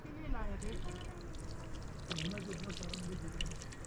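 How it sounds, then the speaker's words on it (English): Tap water pours and splashes at a basin for handwashing at a mountain lodge in Fairy Meadows, Pakistan, a steady trickle running throughout while someone talks over it. "All right, wash hands here."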